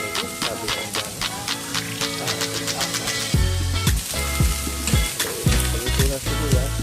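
Onions sizzling loudly in a hot pan while being stirred, with crackling spatters and repeated scraping strokes of the utensil against the pan.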